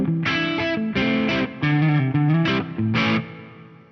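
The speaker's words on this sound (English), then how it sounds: "So a little bit of reverb on scene 2." Electric guitar played through a Fractal FM3 into a tube amp with a little reverb, a series of loud strummed chords in short bursts with slight distortion, ringing briefly between hits.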